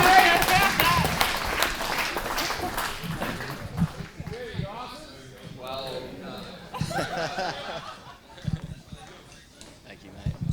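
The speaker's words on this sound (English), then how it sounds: "let's give a massive round of applause for Stefan and keep it going while we welcome up our final speaker of the evening" Wedding guests applaud and laugh as the groom is welcomed up for his speech, a dense burst of clapping that thins out into scattered chuckles and voices.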